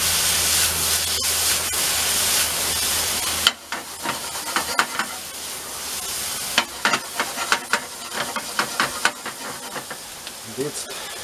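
Coconut milk is poured onto pan-roasted vegetables. A loud hiss and sizzle soon drops to a softer bubbling simmer, broken by scattered clicks and scrapes of stirring.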